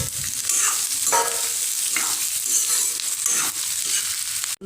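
Eggplant and potatoes frying in a pan, a loud continuous sizzle with bursts of crackling and scraping as the pieces are stirred, no voices.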